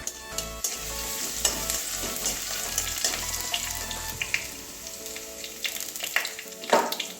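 Grated garlic fries in hot oil in a pan with a steady crackling sizzle and occasional stirring clatter, and a faint hum sits underneath.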